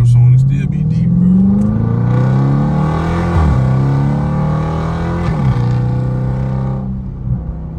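A Dodge Charger Scat Pack with Corsa exhaust drones deep and loud from inside while driving, the engine note rising and shifting through gears, with someone talking over it.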